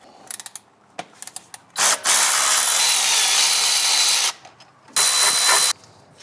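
A ratcheting wrench breaking loose the top bolts holding the AC compressor on a 2004 Chevrolet Silverado with a 4.8L or 5.3L engine; a few quick clicks, then two long loud buzzing ratchet runs separated by a brief pause.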